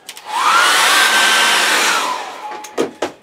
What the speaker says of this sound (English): I'm going to have to dry that, because I want to put some mist in there.